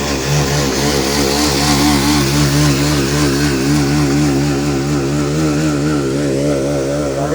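Motorcycle engine on a busy Kolkata street, a close, loud, steady buzzing drone with a wavering pitch that holds throughout, with no talking.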